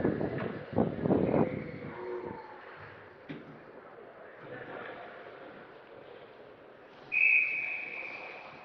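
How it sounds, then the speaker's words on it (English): A referee's whistle halts play at a high school ice hockey game, one sharp tone near the end after skates and puck noises, with commentary heard over the rink. "We'll get a whistle and a stoppage here with 9:57 remaining in the first period."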